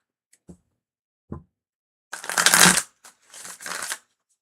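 Tarot cards shuffled by hand during a live reading: two brisk riffling bursts with a few soft taps before them, close and clear with no talking.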